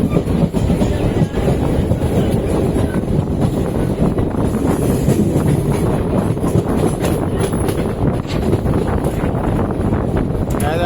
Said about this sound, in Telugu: కోచెస్ అన్ని అడ్జస్ట్ చేస్తూ అతికిస్తున్నారు.